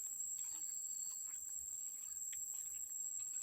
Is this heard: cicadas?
yes